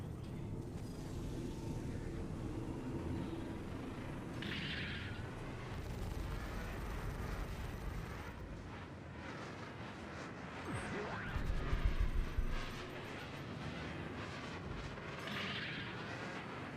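Rapid strafing gunfire from a spacecraft in Star Citizen, a dense rolling barrage with booming bursts under steady engine rumble, with a voice talking over parts of it.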